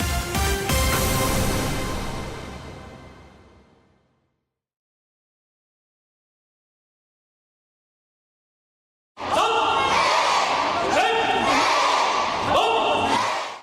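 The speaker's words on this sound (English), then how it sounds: "That is the sound of 800 people performing at the Okinawa World Karate Tournament in" Some 800 performers at the Okinawa World Karate Tournament, 2009, roar in a loud, dense mass that fades out, then after a silence burst back with rhythmic unison shouts and thuds echoing across a large crowded venue.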